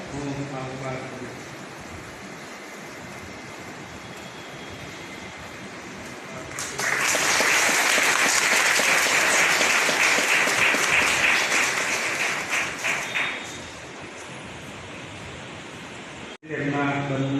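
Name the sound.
church congregation applause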